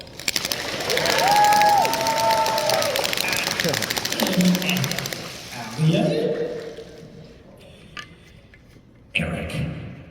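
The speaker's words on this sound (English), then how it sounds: "and we all applaud" Audience applause and cheering at a live show at a fan convention, a dense crowd roar swelling for several seconds and then thinning, with amplified voices and music playing around it.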